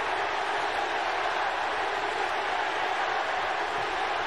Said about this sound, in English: Composure with the home crowd trying to rally behind their players